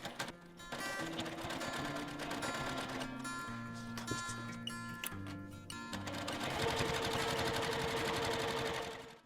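A sewing machine stitches around the edge of a quilt finished without separate binding, running in short rhythmic bursts with brief stops as the fabric is turned at a corner, close and clear with no talking.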